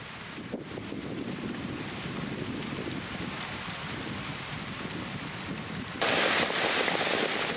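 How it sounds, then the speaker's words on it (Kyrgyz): Heavy rain pours down in an Indian jungle, a dense, steady hiss of drops on foliage mixed with gusty wind noise that grows louder toward the end. "Чытырман токойдо катуу жаан чачын башталды."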